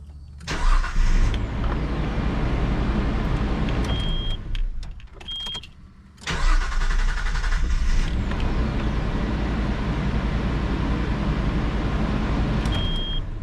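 A 2001 Nissan Xterra cranks and fires up after a starter replacement, with two start attempts separated by a brief pause, then a steady idle close by.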